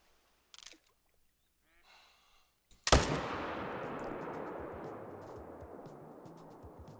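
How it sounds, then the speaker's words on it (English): A single loud rifle shot rings out at fallow deer in a hunting video game, a sharp crack with a long rolling echo that fades away after a few quiet mechanical clicks. "I'm shooting one of them."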